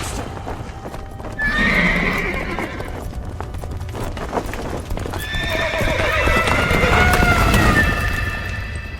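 A horse gallops with rapid clip-clop hoofbeats and lets out loud whinnies and neighs, set in a dramatized radio-play scene with rumbling background ambience throughout.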